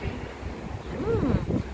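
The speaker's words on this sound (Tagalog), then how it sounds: "Malamig ang simoy ng hangin." Cold morning wind in Hong Kong, ahead of an approaching typhoon, blows across the microphone in a low, rumbling whoosh, swelling briefly louder midway.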